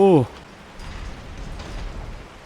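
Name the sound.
rain in video game Resident Evil 4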